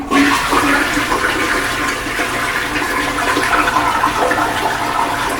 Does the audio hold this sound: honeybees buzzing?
no